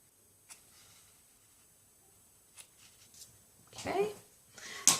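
Scissors trimming the material of a handmade Winter Wonderland holiday gift tag, with a few faint snips early on and then a louder cluster of close, crisp cutting sounds near the end.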